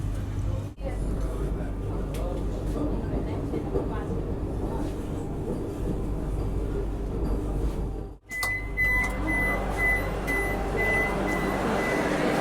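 Vande Bharat Express executive-class train running at speed over a river bridge in the Jhansi division, a steady loud rumble and rattle throughout with a brief dip partway and a faint tonal whine near the end.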